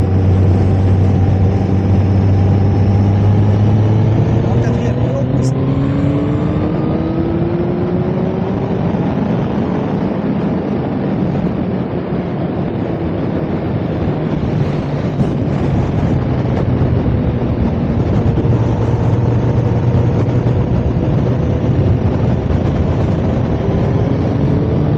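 A motorcycle on a ride around Theux and Spa, its engine droning steadily and rising in pitch as it accelerates, with continuous wind and road rumble throughout and no talk.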